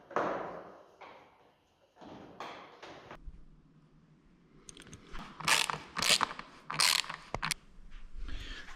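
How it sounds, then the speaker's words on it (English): A ratchet tightens the bottom fairing bolts on a 2022 BMW S1000RR motorcycle, with soft mechanical rubbing at first and then several quick clicking ratchet bursts close by in the second half, alongside light clattering. "Now I will screw the bottom"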